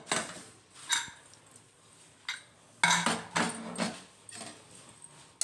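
Green peas masala rice is stirred in a pressure cooker after cooking. A spoon scrapes and clinks against the pot in several short, uneven bursts at close range.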